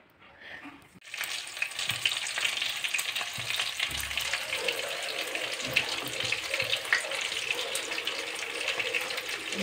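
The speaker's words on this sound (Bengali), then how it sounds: "মাছ ভাজা হচ্ছে, মাছের টক করবো" Fish frying in a pan for a tamarind sour dish, a steady broadband sizzle that starts abruptly after a second of quiet and continues loud and close, with occasional low clatters from the pan.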